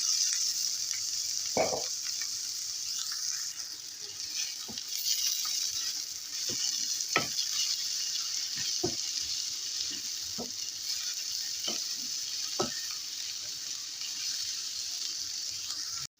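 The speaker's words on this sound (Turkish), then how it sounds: "iki tane doğramış olduğum soğanlarımı tavama alıyorum." Two chopped onions fry in a pan with a steady high sizzle, broken by occasional soft clinks and taps, fairly quiet and close.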